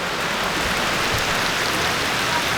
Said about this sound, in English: It's starting to rain, and when it rains, it pours